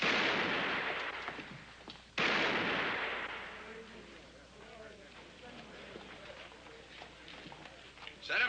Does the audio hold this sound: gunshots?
yes